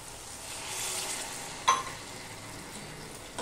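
A little water poured into a pan of cooking arum stolons, a steady sizzling hiss with one sharp splash or clink partway through, close and with no one speaking.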